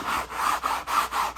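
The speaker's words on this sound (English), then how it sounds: "using the yellow brush just to do some light agitation on the fiber" A stiff brush scrubs back and forth across sectional sofa upholstery fabric in quick, even strokes, a rhythmic rasping close by with brief pauses between passes.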